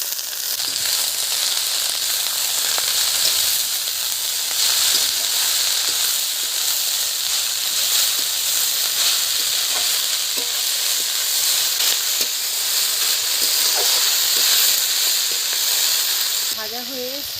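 Leafy greens fry in a pan with onion and potato, giving a loud, continuous, close-up sizzle and hiss that lasts throughout, with a brief voice near the end.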